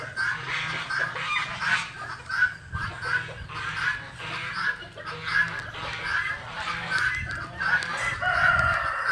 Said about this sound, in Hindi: अनवा अक़साम की मुर्ग, महंगे तरीन मुर्गे।